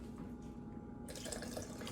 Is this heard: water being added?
yes